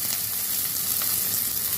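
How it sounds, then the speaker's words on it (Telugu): Chopped onions and chillies fry in a pan for a village-style country chicken dish, with a dense, continuous close sizzle and a few faint stirring ticks. "ఉల్లిపాయలు బ్రౌన్ కలర్ వచ్చేంత వరకు వేయించాలి."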